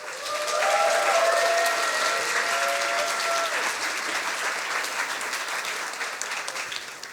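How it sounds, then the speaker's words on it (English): Loud, sustained audience applause fills a hall at a science slam as a speaker comes onto the stage. The dense clapping swells and then holds steady, with a few faint whistles or cheers near the start. "Big applause for Niels von Wardenberg."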